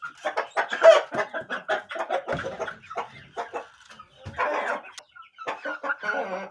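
A young rooster chick named Kobra gives a string of short, scratchy clucks and chirps in irregular bursts, close and clear, with no talking over them.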